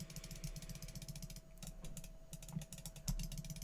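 Typing and clicking on a computer keyboard picked up by a desktop microphone, a quiet stream of rapid key taps and clicks in an uneven rhythm, close and alone over a low steady hum.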